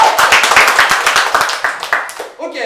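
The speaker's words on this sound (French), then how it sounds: "On peut l'applaudir très fort." A crowd claps in a dense burst of applause, steady and fairly loud, tapering off at the end as a voice starts speaking.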